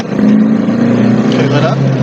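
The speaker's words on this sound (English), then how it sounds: "Put it in second. Take your foot off the brake, or off the clutch, and floor it." A VW TDI car accelerating at full throttle in second gear, a loud, steady engine drone that holds strong for the whole short stretch, heard from inside or very near the car, with no speech over it.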